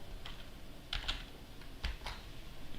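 Someone types a command on a computer keyboard: a few quiet, close key taps in small clusters against a faint room hush, with no talking.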